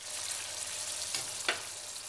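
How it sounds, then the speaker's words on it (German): Bacon cubes and melted butter frying in a pan in an Alpine inn kitchen, a steady soft sizzle with a couple of brief stirring clicks, alone and fairly quiet. "In der Pfanne wartet die herzhafte Garnitur, Speckwürfel und zerlassene Butter."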